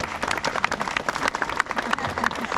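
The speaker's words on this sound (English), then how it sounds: "How about a round of applause for your chief, Brian?" A crowd claps for a chief at the Waitangi Treaty Grounds, a lively burst of mixed hand claps and cheering with some talk mixed in, fairly close and uneven.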